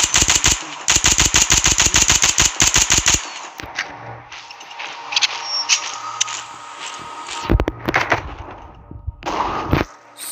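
Shotgun fire in a video game, starting with a dense, rapid burst of loud blasts, then a rumbling stretch broken by further sharp shots near the end.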